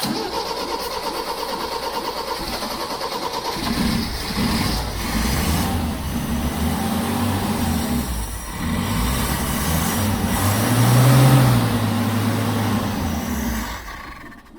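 A 1975 Toyota Carina with the 1.6 TA12 engine cranks steadily and close up in a starting attempt, the starter churning on and on with a rising surge near the end before it stops.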